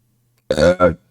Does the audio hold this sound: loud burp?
yes